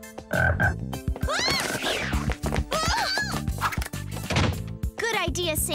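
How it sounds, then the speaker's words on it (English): Frogs croak in loud, rapid bursts in a cartoon swamp scene, overlapping with animated voices and squeaky, high-pitched calls throughout. "I'm not worried about the frogs."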